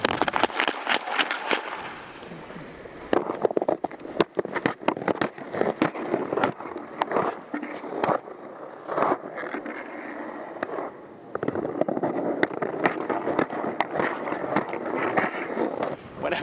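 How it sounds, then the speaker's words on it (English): Hockey skates carve the ice in a rapid crossover followed by five explosive forward strides, producing a dense run of sharp, close scraping bursts with brief gaps and no talking. "you can check out just how quickly my crossover is, and then how quickly I bust out the next 5 strides"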